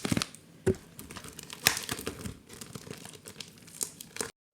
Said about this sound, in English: These tapes are really hard to remove.